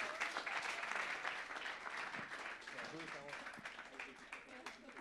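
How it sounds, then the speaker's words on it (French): A room full of people claps loudly after student innovation pitches, sustained applause lasting the whole stretch with a voice briefly audible over it. "Je pense qu'on peut applaudir bien fort les 5 équipes qui sont passées."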